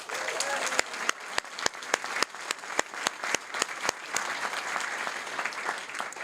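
A room at a school board meeting applauds honored students and their teacher, continuous crowd clapping with several sharp, louder individual claps standing out at a fairly regular rhythm close by.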